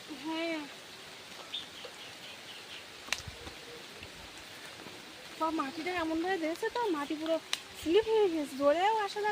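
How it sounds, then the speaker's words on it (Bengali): Rain falls steadily outdoors as a soft, even hiss, while a person talks over it during the later part. "আর বলতে বলতেই আবার বৃষ্টি শুরু হয়ে গেছে"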